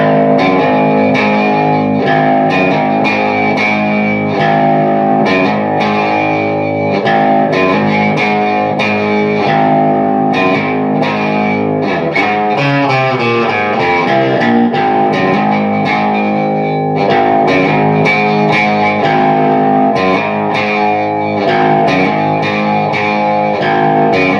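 A heavily distorted electric guitar plays a chugging riff, loud and continuous, with repeated palm-muted notes and short bends, no voices.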